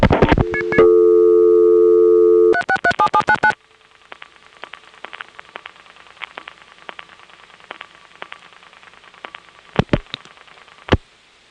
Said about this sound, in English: so it dumps me to a reorder